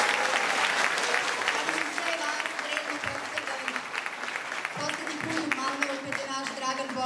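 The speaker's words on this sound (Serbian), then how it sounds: "jednim aplauzom" Sustained audience applause at a sports-for-all event in Sremčica, Belgrade, welcoming the host residents of the local institution; dense, steady clapping from a crowd fills all seven seconds, with voices faintly mixed in.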